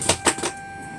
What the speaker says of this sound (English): Wait till you hear all the clickety-clackings of all those solenoids coming to life.